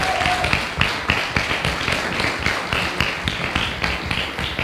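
Audience at a Portuguese award ceremony in an auditorium claps continuously, a dense crowd applause with some sharper individual claps standing out throughout.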